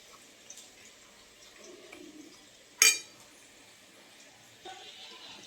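Cornflour batter being stirred in a bowl: quiet scraping and soft taps, with one sharp clink of utensil on the bowl midway and a lighter knock near the end.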